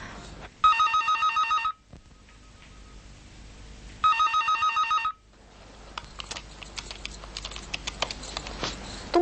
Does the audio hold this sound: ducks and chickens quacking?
no